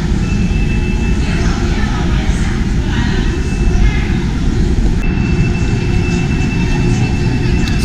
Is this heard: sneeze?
no